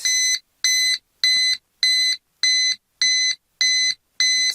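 A 12V carbon monoxide and LP gas detector in an RV sounds its alarm: seven loud, evenly spaced electronic beeps, each about a third of a second long, repeating steadily with no voices.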